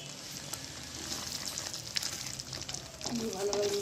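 Spices sizzle in hot oil in a frying pan as they are stirred: red chilli powder, Kashmiri chilli powder, coriander powder and cumin powder. The sizzle is steady and close with scraping stirs, and a voice talks over it.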